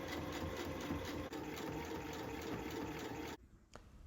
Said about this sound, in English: this is just sewn in place with 2 rows of top stitching